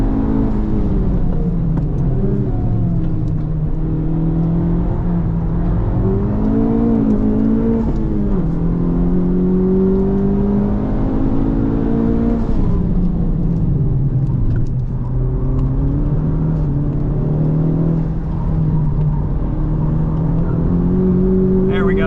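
A modified Hyundai Elantra N or FL5 Honda Civic Type R on a hot lap, heard from inside as a loud continuous engine drone rising and falling through gear changes, with a voice talking over it at times.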